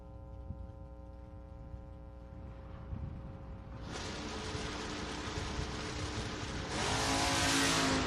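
Drag racing cars, a Ford Granada and a Chevelle, at a bracket race, engines droning at a distance then surging louder in two stages as they launch and accelerate; no talk.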